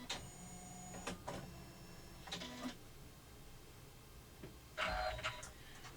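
An embroidery machine stitching an in-the-hoop wallet with black 100% cotton thread, giving short bursts of fast mechanical rattling and whirring separated by quieter pauses, faint and close.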